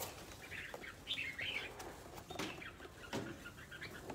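Small birds chirp and tweet in short bright bursts, with a few soft wing-flapping flutters among them, all faint and fairly close against a quiet background.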